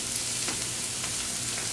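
Tomato sizzling in a pan as it cooks down, a steady close frying hiss with faint crackles and no voices.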